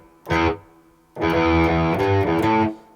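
Electric guitar played open, without palm muting, through a distorted tone: a short sustained note, a pause, then a ringing one-string riff that carries on for well over a second, loud and close with no voice.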